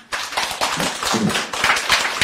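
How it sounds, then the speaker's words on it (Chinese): An audience at a lecture hall talk on bipolar disorder breaks into brief applause, a dense, fairly loud patter of many hands clapping for about two seconds. "来给他鼓掌一下"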